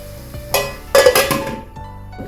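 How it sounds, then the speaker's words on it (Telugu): Onions fry in oil in a pan on a slow flame, with short bursts of sizzling and a couple of clattering stirs against the pan amid low background noise. "ఉల్లిపాయలు అంతటికి కూడా కలిసేంత వరకు ఆయిల్లో మిక్స్ అయ్యి చక్కగా ఫ్రై అవుతుంది"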